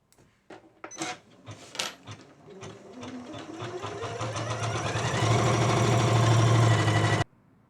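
A domestic embroidery machine stitches a finishing border around a fabric appliqué. A few clicks and taps start it, then a steady rapid mechanical whirr builds and runs loud and close before stopping abruptly.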